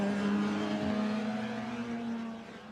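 Race cars at Oulton Park drive down toward Lodge Corner, a loud sustained engine drone with a steady pitched whine that slowly falls and fades as the pack moves away.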